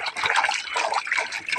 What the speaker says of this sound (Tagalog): walang patayan itong gripo